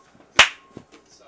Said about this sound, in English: You like my clapping? Is it good?